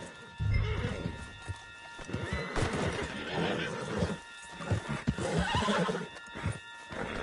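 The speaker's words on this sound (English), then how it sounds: "Put Strauss on the back of John's horse and let's get out of here." Horse hooves clip-clop along with occasional neighing in the video game Red Dead Redemption 2, mixed with game background sounds and some distant voices.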